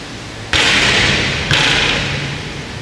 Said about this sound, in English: It hit this grate down here, a big bang.